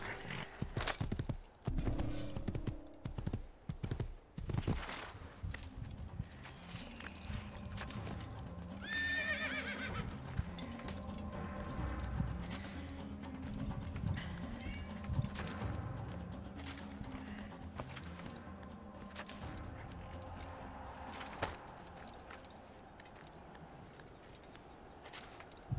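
A horse in the video game Assassin's Creed gives hoof clip-clops and a clear whinny amid game ambience, with sharp hoof hits early and the neigh rising midway, moderately near.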